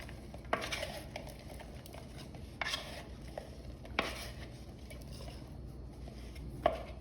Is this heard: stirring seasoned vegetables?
yes